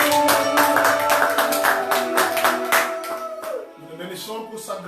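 A church congregation clapping to acclaim the Lord, fast steady rhythmic handclaps under a sustained voice, thinning out toward the end.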